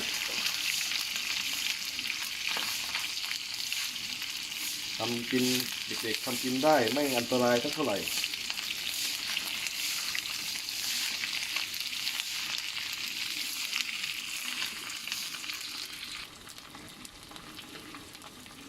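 Pork fat frying in a pan, with plenty of rendered oil, sizzles steadily and densely for the whole stretch, while someone talks briefly partway through.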